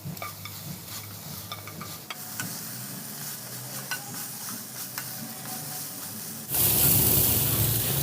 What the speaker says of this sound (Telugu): ఇప్పుడు స్టవ్ని హైలో పెట్టుకొని స్పీడ్గా టాస్ చేసుకుందాం